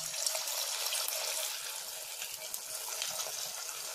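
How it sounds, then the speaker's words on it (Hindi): Manchurian balls deep fry in hot oil, giving a steady, fairly soft hiss and crackle that keeps going throughout with no talking. "अब हम इसे डीप फ्राई करेंगे और यहाँ पे तेल भी अच्छे से गर्म हो गया है"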